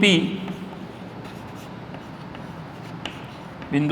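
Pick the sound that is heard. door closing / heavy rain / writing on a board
writing on a board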